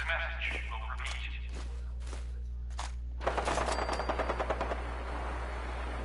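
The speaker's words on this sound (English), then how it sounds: "Who's the Brotherhood shooting at over here?" Distant automatic gunfire from Brotherhood soldiers in the video game Fallout 4, a quick burst of rapid shots over a steady low hum, with a few faint voices earlier.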